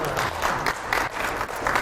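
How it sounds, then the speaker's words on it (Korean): A church revival congregation claps together in a quick, rhythmic burst, loud and close, with a few voices mixed into the crowd noise. "우리 박수 한번 하겠습니다."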